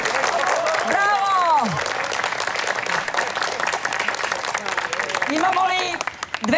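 Applause from an audience at a charity donor evening auction: dense, steady clapping throughout, with whoops and whistle-like cheers rising over it.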